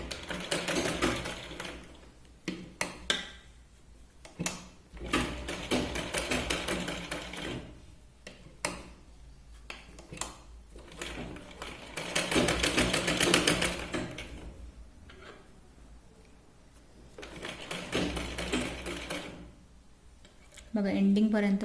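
Sewing machine stitching a katori blouse, running in bursts of rapid mechanical chatter separated by pauses, close and fairly loud, with brief talk between runs.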